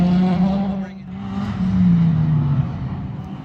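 A WRC Ford Fiesta rally car runs hard on a winter series stage at Shackleton/Ballykelly, its engine loud and close with a sustained rasping note that dips briefly, then climbs again under load.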